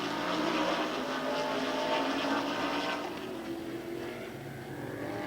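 Super modified race cars roar steadily around an oval track, a dense, loud engine drone that swells and fades slightly as they pass, with no voices.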